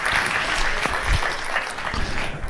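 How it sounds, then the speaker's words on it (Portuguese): An audience at a comic hypnosis show breaks into applause, loud, dense clapping from a crowd with a few heavier low thumps, running the whole time. "Uma salva de palmas."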